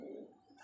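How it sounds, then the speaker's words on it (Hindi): Pigeons kept at home give a brief, low cooing call, close and fairly quiet, with no one talking. "ये दोस्तों पल्ले पल्ले घर पर हमारे खूब सारे कबूतर हैं"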